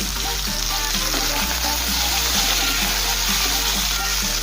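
Drumsticks and green banana, seasoned with turmeric and salt, fry in oil under a lid for Bengali shukto, producing a loud, dense, continuous sizzle with no one speaking.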